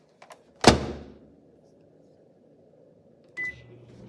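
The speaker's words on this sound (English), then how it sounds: "heat up the tortilla in the microwave for a couple seconds" Microwave oven warming a tortilla in a home kitchen: one sharp thunk of the door near the start, a quiet hum, then a short electronic beep a few seconds later, with faint background noise between.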